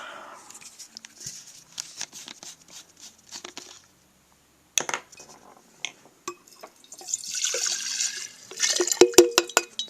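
Alcohol being poured from a container while mixing French polishing shellac for a guitar finish, heard as intermittent splashing and trickling liquid with clinks of glass, louder bursts near the end, and no talking.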